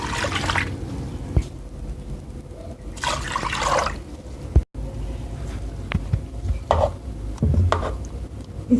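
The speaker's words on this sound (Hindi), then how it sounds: "3 गिलास पानी डाल देंगे।" Water splashes and gurgles in a few bursts, poured into a pot of milk cream for making ghee, with clinks and knocks between pours.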